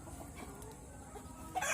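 A chicken clucks softly in a short, low, close burst against a faint background hum. The bird is a healthy one whose spurs are being removed.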